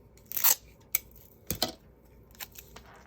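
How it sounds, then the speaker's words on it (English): Sharp scissors snip through pearlized white cardstock at close range, a few crisp separate cuts spaced across a quiet background with no talking. "So I'm going to cut this pearlized white as my base."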